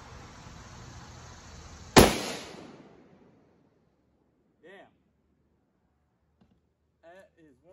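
A single loud, sharp gunshot from a Ruger Precision rifle chambered in 300 PRC at a shooting range, a sudden blast with a short decaying tail followed by quiet and a few faint metallic clinks.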